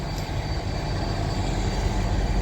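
C&O Kanawha No. 2700 Berkshire steam locomotive at Dennison, Ohio, giving a steady low rumble with a constant broadband hiss, near and even throughout.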